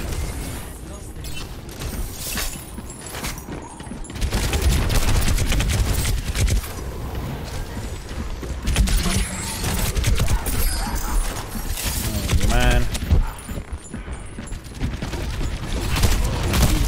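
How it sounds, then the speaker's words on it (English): Rockets slamming into a Wrecking Ball player in an Overwatch match, a dense run of booming blasts and mechanical clatter over several seconds, with a player talking over the chaos. "rockets to my face"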